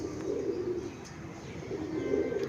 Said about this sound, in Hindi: कबूतर हमारे ठीक है माशाल्लाह